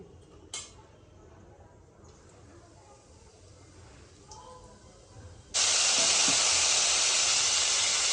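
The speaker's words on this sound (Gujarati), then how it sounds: "હાલો હવે વઘાર મારવાનો છે" Spices for tempering (vaghar) hit hot oil while cooking chole for chole bhature, bursting into a loud, steady sizzle and hiss that fills the last few seconds after quieter kitchen clatter and a voice.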